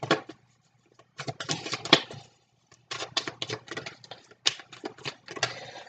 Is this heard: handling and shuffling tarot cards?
yes